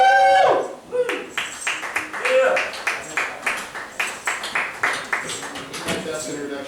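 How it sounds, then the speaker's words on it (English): An audience at a live comedy show claps for a performer being welcomed to the stage, with crisp claps repeating at a fairly steady rhythm after a brief voice at the start. "Give him a round of applause."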